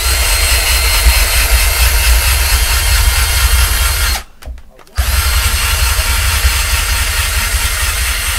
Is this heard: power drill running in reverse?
yes